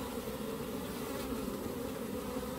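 Honeybees buzz steadily around an open beehive, a dense, continuous close hum with some bees flying near the microphone, no talk.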